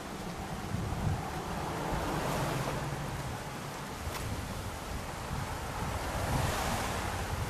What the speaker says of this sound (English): I'm crossing a very pretty river.